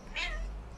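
A single short cat meow, close and fairly soft.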